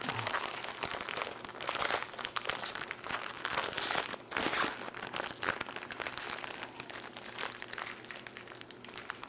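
A plastic piping bag filled with chocolate crinkles and crunches steadily as hands handle it in a kitchen, close and continuous over roughly nine seconds with no talk.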